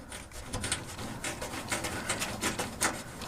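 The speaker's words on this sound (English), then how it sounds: "I shouldn't have to use a screwdriver to get a thumb screw out of a system" A screwdriver works a stuck thumb screw out of a Dell computer case, giving faint, close scratchy rubbing and small metallic scrapes in a loose, repeated rhythm, with no talk.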